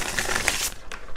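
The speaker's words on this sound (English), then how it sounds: "I'm going to put those back because I'm going to shuffle." A deck of tarot cards is shuffled by hand close to the microphone, a quick burst of riffling and rustling flicks lasting about a second.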